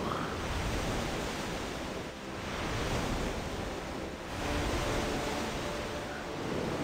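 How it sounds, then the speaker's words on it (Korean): Ocean waves wash ashore in the video game Black Desert, a steady close surf hiss that swells and eases in slow surges, with no talk. "와, 여기 되게 파도 소리도 녹음을 잘했어요."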